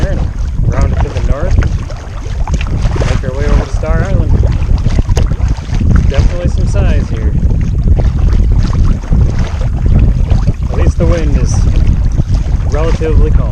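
Steady kayak paddling across a calm lake bay, with a continuous wash of water and heavy wind buffeting the microphone that masks individual paddle strokes, and a voice talking faintly underneath.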